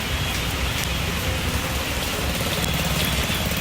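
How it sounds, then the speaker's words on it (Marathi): Heavy, constant rain falls steadily near a market outside Panvel, a dense, even hiss of drops on surfaces that holds unchanged throughout with no voices. "कॉन्स्टंट पाऊस चालू आहे यार"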